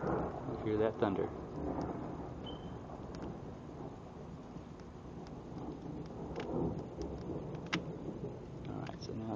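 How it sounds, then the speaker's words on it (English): Distant thunder rumbles low and faint outdoors near a BBQ pit fire, a soft, rolling growl with light rain and a swell near the start. "You hear that thunder?"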